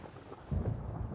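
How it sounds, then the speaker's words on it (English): A thunderstorm in the video game Genshin Impact rolls in as a low, muffled rumble that swells midway and lingers, faint and distant, with no voices over it. "Where is the storm headed?"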